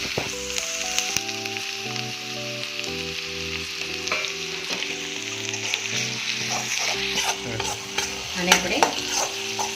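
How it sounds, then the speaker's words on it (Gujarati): Crushed carrot and cabbage stir-fried on high flame in a pan, with a steady loud sizzle, the scrape and clatter of stirring throughout, and a brief voice speaking over it. "હાઈ ફ્લેમ ઉપર આ રીતે હલાવી દઈશું"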